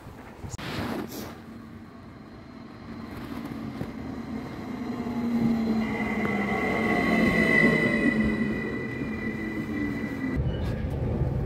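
Aboard a rail train arriving toward Tripla station, a continuous low rumble of wheels and carriage swells steadily, with rising whining squeal tones as it brakes, then a sudden drop at the end; no talking.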